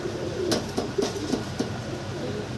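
Fancy pigeons offered for sale coo in a series of short, soft, throaty calls, about five pulses, near and moderately loud, with no speech.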